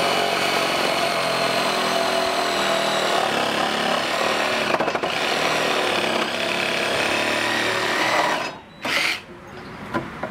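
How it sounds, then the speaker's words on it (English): A reciprocating saw cuts wood with a loud, rapid buzzing rasp that runs continuously for about eight seconds, breaks off briefly, then starts again in short bursts near the end. "So I'm using my sawzall."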